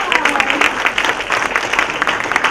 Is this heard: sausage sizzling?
no